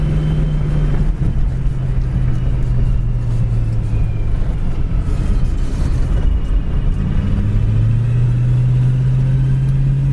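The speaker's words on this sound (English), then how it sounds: "A 289 two-barrel accelerates well." 1966 Ford coupe with a 289 two-barrel V8 on the road, a steady loud engine drone with rumbling road noise inside the cabin, the pitch dipping then rising again as it accelerates.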